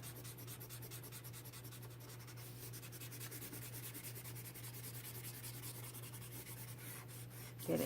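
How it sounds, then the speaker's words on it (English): Steady, quiet rubbing of a pencil eraser across paper, a soft continuous scrubbing with a low hum beneath and a brief louder knock at the very end. "Erase any lines you don't need."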